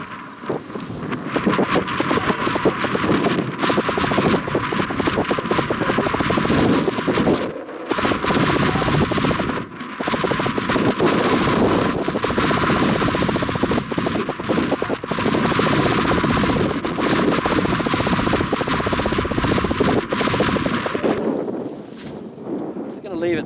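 Strong wind on a New Zealand summit buffets the microphone continuously, roaring in gusts with brief lulls, loud and rough throughout.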